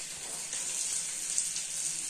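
Fish wrapped in banana leaf frying in oil in a Kerala-style pollichathu, giving a continuous bright sizzle that stays even and fairly close throughout.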